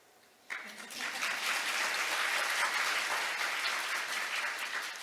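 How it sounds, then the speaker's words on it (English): Applause from a conference audience starts abruptly after a quiet moment and swells into a dense, even wash of clapping that holds for several seconds. "I won't make you clap anymore,"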